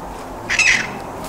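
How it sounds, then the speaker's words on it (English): A New Zealand bush parrot gives a single sharp, loud squawk at close range that lasts a fraction of a second, set against a quiet forest background. "They are our bush parrot and they actually are quite the clowns of the forest as well"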